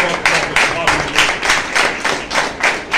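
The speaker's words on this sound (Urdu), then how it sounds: "پریز دی لارڈ، زوردار تالیاں لگائیں گے" A church congregation claps loudly in praise, dense rhythmic applause pulsing in regular beats for a few seconds, close and energetic.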